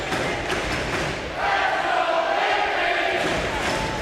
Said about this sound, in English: Crowd getting into it as the pass into the goal crease area